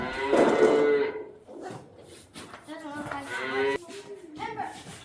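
Several loud, drawn-out mini cow moos nearby, one after another, with brief pauses between calls.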